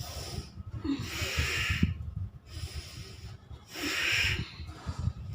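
Forceful nasal breaths repeat in a steady exercise rhythm, close and fairly loud, with sharp hissing exhales during a guided breathing routine for seniors; no one talks over them.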